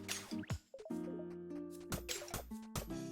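Water being bottled in the video game Forager gives short dripping, squishy liquid sounds, heard amid soft game tones and bleeps.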